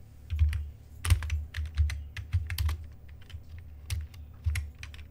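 Rapid, uneven keystrokes on a computer keyboard while code is typed for web development, close and clear with short bursts and pauses and no talking.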